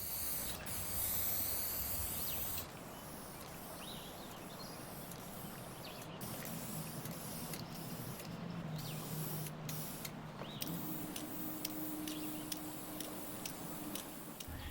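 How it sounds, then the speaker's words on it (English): Shellac being sprayed onto a restored dresser, with soft hissing bursts from the spray gun interrupted by short gaps and faint mechanical clicks and ticks. "I'll spray on the first of many coats of shellac"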